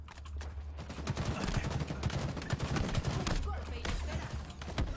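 Dense bursts of gunfire from a shooter video game, rapid volleys of shots under continuous background game noise, with talk mixed in.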